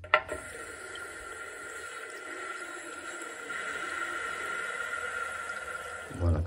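Water runs steadily from a push-button tap whose flow is being adjusted, a continuous hiss of moderate, even loudness with a brief knock at the end.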